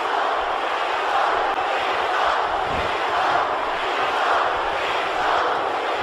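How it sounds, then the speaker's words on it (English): Arena crowd chanting for John Cena during a WWE 2K19 match against Bobby Roode, a dense, steady roar of many voices that swells and ebbs across the whole stretch. "we hear this crowd, man, just chanting Cena ferociously here"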